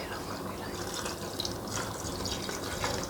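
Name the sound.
adding water to chicken and spices in pan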